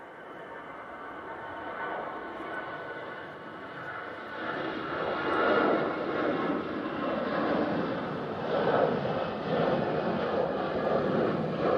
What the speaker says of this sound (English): It's an A319. And it's off to Faro.